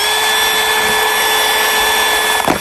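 A power tool bores a hole in a plastic piece for a chicken waterer, a loud, steady high-pitched whir up close that ends in a short rattling burst.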